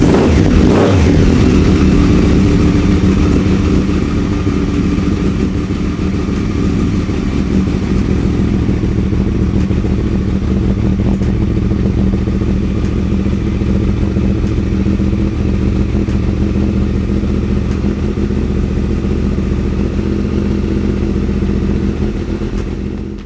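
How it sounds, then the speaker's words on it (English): A Yamaha R1 sport motorcycle idles steadily after a cold start, held at a constant loud engine rumble with some mechanical clatter for over twenty seconds. There is no talk. "right now we're just gonna turn on the bike to cycle through the system, give you guys a quick little cold start"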